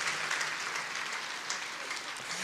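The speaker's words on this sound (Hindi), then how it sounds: "आप सब मिल करके उनको ताली बजा करके उनका स्वागत है" An audience claps continuously to welcome a guru at a spiritual gathering, a dense, steady crowd applause heard from a moderate distance.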